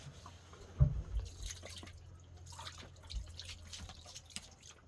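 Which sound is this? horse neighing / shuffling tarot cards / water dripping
water dripping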